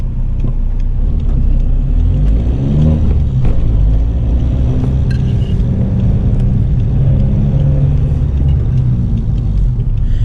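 Seat Ibiza 1.9 TDI diesel car pulling off from a stop, a close, loud low rumble inside the cabin that rises slightly as it accelerates, steady throughout.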